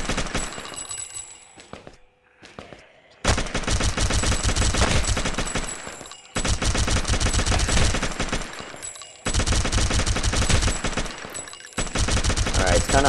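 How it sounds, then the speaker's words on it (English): Continuous automatic gunfire from a weapon in the video game Gun Builder ELITE 2.0 zombie mode, loud and dense, coming in long sustained bursts with brief pauses between them. "I'm just letting go the continuous stream of bullets."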